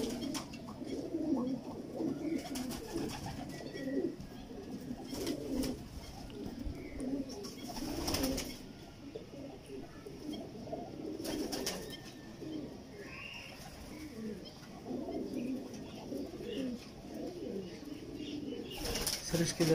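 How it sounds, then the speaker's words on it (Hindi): Pigeons kept at a home loft, soft repeated cooing and some wing flapping at moderate distance, continuous over the whole stretch with someone speaking over it. "एक और बड़ा शानदार कबूतर है"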